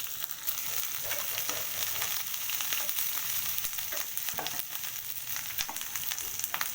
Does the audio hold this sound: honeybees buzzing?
no